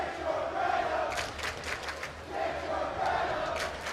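A packed high school basketball gym during a boys' playoff game between Central Catholic and Mountainside roars with a cheering crowd, a dense continuous din that swells and dips, with a few sharper shouts rising out of it.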